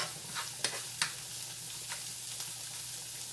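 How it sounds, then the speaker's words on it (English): Grits in a pot on the stove being stirred, a faint bubbling hiss with a few sharp spoon knocks against the pot, no talking. "You have to keep stirring these grits now."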